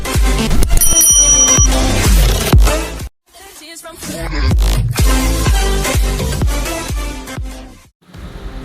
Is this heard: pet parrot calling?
no